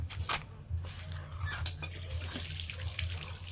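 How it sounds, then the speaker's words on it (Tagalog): Hands washed with soap under a running kitchen tap, a close, steady splash and trickle of flowing water with small rubbing sounds and no talking. "maghugas pa tayo ng kamay. Boss, ito. Alasama natin yung sabon."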